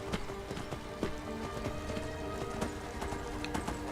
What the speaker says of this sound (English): the sprinting sound of the horse is actually unchanged